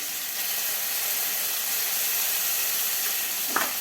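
A mustard and poppy seed paste sizzles in hot mustard oil in a pan, giving a steady, even hiss throughout with one brief stir near the end.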